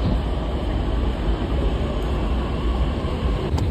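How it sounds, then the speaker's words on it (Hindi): A metro train pulls into a station with a steady, loud, low rumble of wheels and carriages that fills the whole stretch without a break. "मेट्रो आली"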